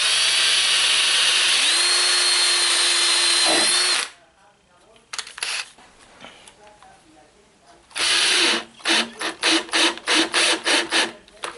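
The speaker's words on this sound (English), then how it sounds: "now you always want to drill holes" A power drill bores screw holes into a door for a Kwikset lock install, giving two loud sustained bursts of whirring separated by quieter clicking and handling noise.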